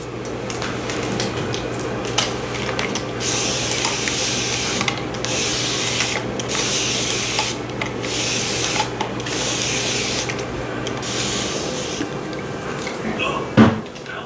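Repeated bursts of a water spray bottle misting hair during a haircut, a steady series of short hissing puffs at close range over a low background hum, with a brief clatter near the end.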